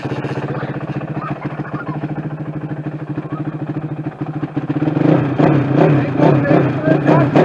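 A used dirt bike engine idling before it is fully warmed up, a close, steady, uneven putter that gets louder and rougher toward the end as it is revved, with a voice talking over it.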